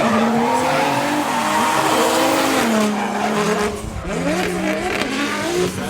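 Drift cars led by a 2JZ-powered Nissan 240SX slide through a track infield, engines roaring loud and close with sweeping pitch changes and sustained tire squeal, continuous for the whole stretch.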